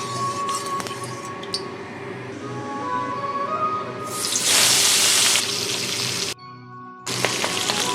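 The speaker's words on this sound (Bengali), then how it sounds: "মাছগুলো এবারে আমি ভালো করে ভেজে নেব।" Fish heads hit hot mustard oil in a pan and burst into loud, hissing sizzle that swells midway, cuts out briefly, then resumes close and steady.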